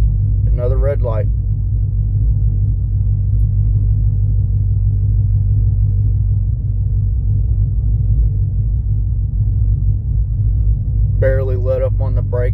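Stage 4 cam car engine with a factory-stall converter idling against the brake at a red light, a steady, loud, lumpy low rumble throughout, with brief voices near the start and end.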